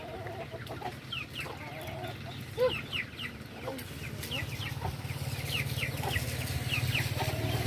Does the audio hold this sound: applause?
no